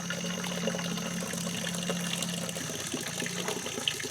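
Spring water pours steadily into a container at an off-grid cabin water source, a continuous moderate gush with light splashing and no talk.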